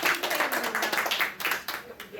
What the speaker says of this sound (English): Give a round of applause on Nate, everybody.